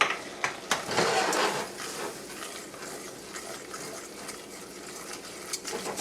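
Flour being stirred into chicken pot pie filling in a pot, with a few soft utensil clinks and scraping at the start, then a low, quiet wet stirring texture that carries on steadily.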